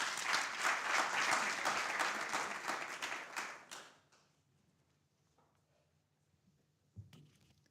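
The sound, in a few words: applause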